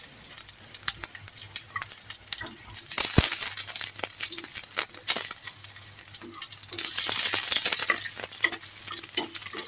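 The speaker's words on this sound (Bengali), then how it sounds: "রসুনটাকেও আমি লাল লাল করে ভেজে নিব।" Garlic frying in hot oil, stirred around in the pan while it browns for a Bengali okra bharta, giving a steady continuous sizzle with scraping and stirring clatter throughout and no voices.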